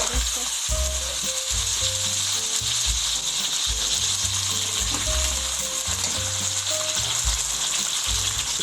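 Green chillies and okra fry in a pan for bhindi masala, giving a steady, fairly quiet sizzle that runs throughout, with the intermittent scraping clatter of stirring layered over it.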